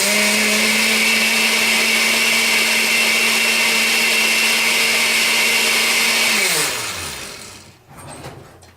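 A blender runs steadily and loudly on hot sauce mixed with distilled white vinegar for homemade Thai chili sriracha, its motor whine holding for about six seconds before winding down and stopping, followed by faint handling noises.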